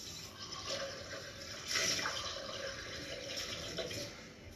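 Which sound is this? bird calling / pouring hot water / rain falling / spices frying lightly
pouring hot water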